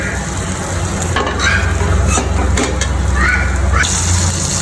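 Soybean chunks and potatoes fry in oil with a little turmeric, giving a dense continuous sizzle with intermittent scraping and stirring clatters throughout.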